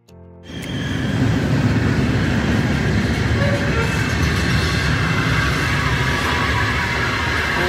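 A loud, steady rumbling roar of a Manila LRT light rail train rolling past up close, starting abruptly and holding constant throughout.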